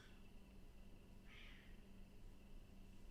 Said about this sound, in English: Is that a cat fight, nigga? Cats outside fighting?